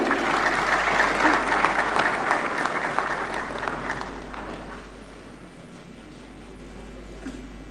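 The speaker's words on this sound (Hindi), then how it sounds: "श्री रजावत के लिए जोरदार तालियां।" Audience at a film award ceremony applauds strongly as a producer accepts his award, a loud, dense wave of clapping that gradually thins and fades to scattered claps.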